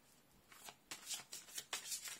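Tarot cards are shuffled by hand up close in quick, papery riffling bursts, a steady run of soft flicks with no talking.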